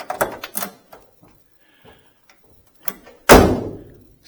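A 1967 Impala SS passenger door swings and snaps shut with one loud, solid slam, preceded by a few lighter clicks and handling noises close by.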